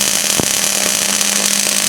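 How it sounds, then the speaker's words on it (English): Two metal pieces are welded together where they touch, giving a steady, loud crackling buzz with a constant electrical hum underneath and a few brief sharper snaps, with no talking. "why don't you weld these two right where they touch"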